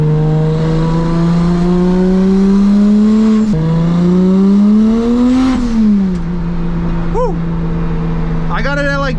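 A 700whp single-turbo BMW 335i drives along with a loud droning engine note that climbs steadily in pitch, falls back at each gear change, then rises again. A voice briefly cuts in near the end.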